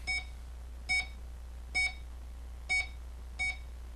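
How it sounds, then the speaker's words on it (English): Five short electronic keypad beeps ring out at a steady, slightly uneven pace, clean and distinct over a constant low hum, each tone brief and bright. "now we can raise the key beep volume"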